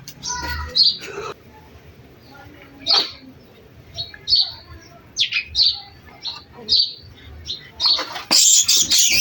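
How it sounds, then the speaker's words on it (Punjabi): A pet sparrow chirps at home, sharp, separate tweets repeating every second or so amid household noise, with people talking nearby and a louder, busy burst of chirping at the end. "ਜਿਹੜੀ ਆ ਚਿੜੀਆ ਸਾਡੀ ਇਹ ਚੁੱਪ ਨਹੀਂ ਕਰ ਰਹੀ"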